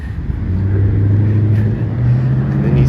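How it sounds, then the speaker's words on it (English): Car engines idle and rev near a street crosswalk, a loud steady low drone with a rising pitch toward the end, no voices. "there's these engine sounds behind me"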